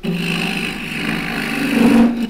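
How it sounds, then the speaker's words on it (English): A 3/4 inch, 3/8 thick scraper cutting cross-grain wood on a lathe, giving a continuous close rasping scrape with a rhythmic flutter from the spinning blank over a couple of seconds. "This is a 3/4 inch, 3/8 thick scraper. Clean at a slight angle to start with."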